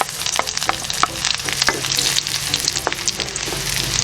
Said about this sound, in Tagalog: Nasa low to medium heat po tayo sa ating paggigisa para hindi po masunog itong ating bawang